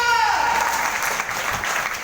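An audience at a stage business seminar applauds strongly, a thick, continuous wash of clapping that stays loud throughout, with a voice briefly sounding over the start.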